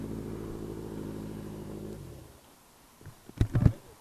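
1980 Kawasaki KZ1000 custom cafe racer engine running at a steady rumble for about two seconds, then cutting off, followed by a few louder mechanical knocks and clunks near the end.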